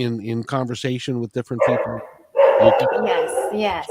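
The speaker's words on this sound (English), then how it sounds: "That's my Australian Shepherd" An Australian Shepherd barks in a quick run of sharp, close barks that ends in a whimpering yelp, while people talk over the noise.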